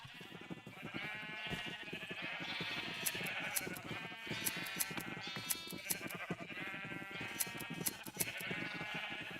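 Repeated sheep bleats in Minecraft over a steady hum, several animals calling one after another at moderate volume during shearing, with game ambient sound beneath.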